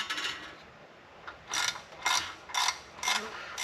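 A ratchet works loose transmission bolts in a nearby garage, giving a few quiet scrapes and then four rhythmic bursts of ratcheting clicks, close and fairly soft with no talking.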